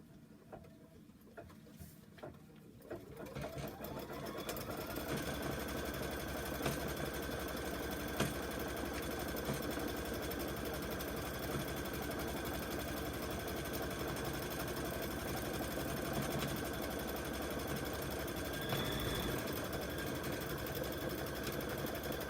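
An embroidery machine stitches the tack-down step of a Kimberbell Kimberbear design, starting after a few seconds of quiet and then running as a steady, continuous rapid whir at close range for the rest of the stretch, with no talking.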